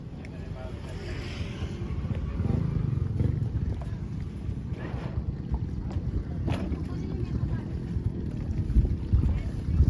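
A boat engine rumbles low and steady as the boat approaches a riverside landing, mixed with wind buffeting the microphone and faint splashing.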